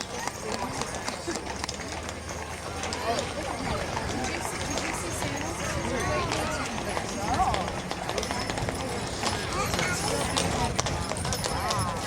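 Rhythmic clip-clop of a team of Percheron horses' hooves on pavement in a Christmas parade, under an announcer's voice and background crowd murmur.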